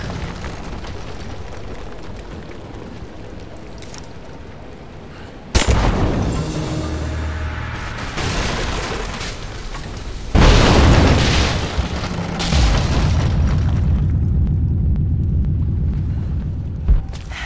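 Greek fire vessels burst in Rise of the Tomb Raider, bringing down the supports of an unstable statue: two loud booming explosions several seconds apart, each followed by rumbling debris and crumbling stone, with no talk.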